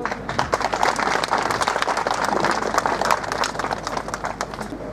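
Loud, dense crowd applause rings out at a political gathering in a village, steady rapid clapping from many hands sustained for the whole stretch with a faint voice murmuring beneath.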